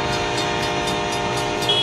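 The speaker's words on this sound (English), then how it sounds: "This driver can't think he can beat a train." A train approaching a rail crossing, its horn sounding loud and sustained over the rumble and rhythmic clatter of the cars, with no talking.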